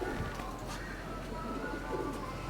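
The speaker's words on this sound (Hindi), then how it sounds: "तो ये माशाल्लाह कबूतर ना दोस्तों" Pigeons in a loft coo softly and continuously, a low murmur running under steady background noise.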